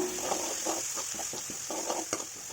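Crushed ginger, garlic and spices frying in hot coconut oil, a soft steady sizzle broken by repeated scraping stirs in a quiet rhythm.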